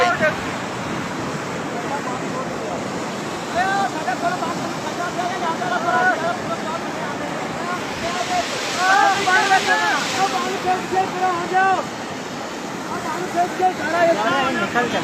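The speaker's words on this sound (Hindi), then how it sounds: "सारा पानी इधर आ गया" Floodwater pours through a broken embankment on the Sutlej river in a loud, continuous roar with wind buffeting the microphone, while people talk over it now and then.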